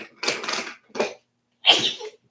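Three quick sneezes in a row, close and fairly loud, the last one the strongest, with short silences between them.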